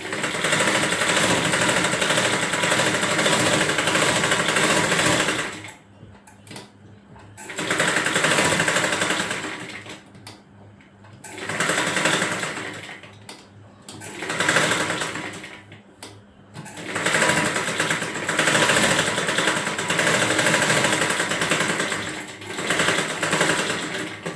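Electric sewing machine stitching a frock seam, loud and near, running in several bursts of a few seconds each separated by short quiet pauses.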